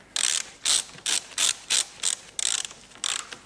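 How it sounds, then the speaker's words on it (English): Ratchet wrench tightening the battery terminal clamp on a Ford Explorer, a fast run of about nine crisp, close clicking bursts in steady rhythm with brief pauses between strokes. "Then we need to tighten this down."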